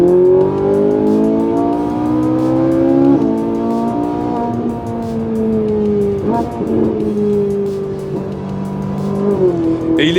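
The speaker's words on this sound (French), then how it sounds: "avec un V8 qui a une bande son hors du commun. Aucune voiture ne chante comme ça" A Ferrari 458 Italia's high-revving V8 engine sings loudly with rising and falling pitch, a sustained harmonic wail under load that dips briefly midway, then climbs again near the end.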